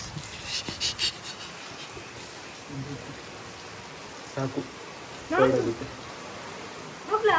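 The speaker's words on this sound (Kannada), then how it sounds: "ಮಳೆ ಬೀಳ್ತಿದೆ." Rain falls outdoors as a soft, steady patter, with brief bursts of people talking and a few louder knocks breaking through.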